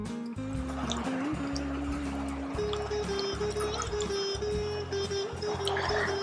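Water is poured and stirred into a thin instant dosa batter of chopped onion, turmeric, asafoetida, pepper and oil, giving continuous close liquid sloshing and dribbling with a steady wet churning throughout.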